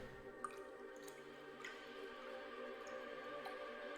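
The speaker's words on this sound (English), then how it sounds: "This whole dripping faucet noise is rather unsettling." A dripping faucet sends sparse, faint drips into a quiet room, isolated soft plinks spaced irregularly over a low steady background hum.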